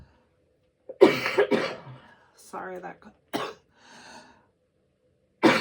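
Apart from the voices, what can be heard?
coughing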